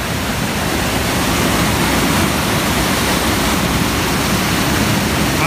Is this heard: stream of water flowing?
yes